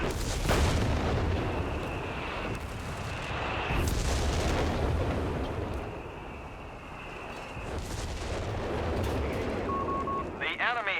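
Howitzer artillery in a Company of Heroes 3 match sends out several heavy booming shots and rumbling impacts at irregular intervals, with game tones and a commentator talking over the battle.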